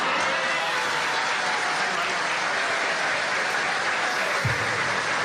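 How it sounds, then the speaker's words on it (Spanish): Loud, dense applause from a crowd fills the whole stretch steadily, with many hands clapping at once and no break. "Fuertes los aplausos"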